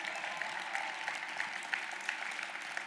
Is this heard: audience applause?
yes